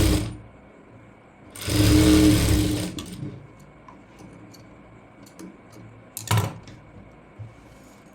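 A sewing machine stitches a kurti hem in a loud burst of rapid, even whirring lasting about a second, followed by quieter pauses with small clicks and a second brief run of stitching.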